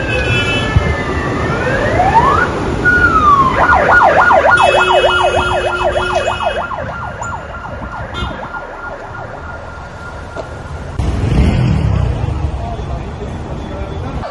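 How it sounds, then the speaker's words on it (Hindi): Loud wailing ambulance sirens in Beirut sweep up and down repeatedly after explosions, overlapping with traffic noise, then fade as rumbling street sounds take over. "राजधानी बेरूत के कोने कोने से सिर्फ एम्बुलेंस के सायरनों की आवाजें गूंज रही थीं।"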